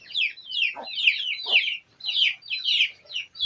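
Chickens and chicks in a rain-soaked shed after a heavy overnight downpour give steady, fairly close, high-pitched chirps and peeps that come in repeated bursts with short pauses between them.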